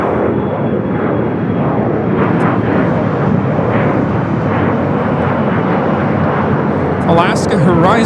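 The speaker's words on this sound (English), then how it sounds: "Alaska Horizon 2051 taking off to Spokane on the E-175" An Alaska Horizon Embraer E175 takes off at LAX with a loud, sustained jet roar filling the whole stretch, while voices murmur faintly in the background.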